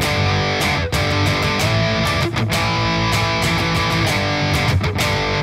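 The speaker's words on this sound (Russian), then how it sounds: "когда мы играем с дисторшеном, мы все-таки не играем полноценно, да, такие вот здоровые аккорды" Distorted electric guitar plays chunky fifth power chords, loud and sustained, with brief breaks between strummed chord changes.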